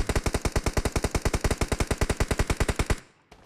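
Rapid automatic gunfire in the mobile battle-royale game BGMI, roughly thirty evenly spaced shots in a fast burst for about three seconds, then a short tail and one faint extra report.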